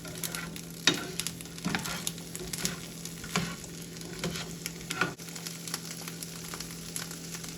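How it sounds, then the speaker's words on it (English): Chickpeas sauté in a pan for a vegan beet salad: a steady close sizzle with irregular scraping and tapping stirs every second or so, and a constant low hum beneath, without speech. "add the chickpeas. And just saute that around for a couple minutes"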